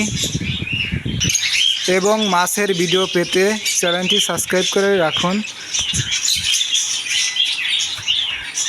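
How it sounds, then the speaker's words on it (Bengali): Caged birds in a shop selling birds, cages and aquarium fish keep up a steady stream of high, thin chirps and tweets, with someone talking over them for much of the time. "পাখি"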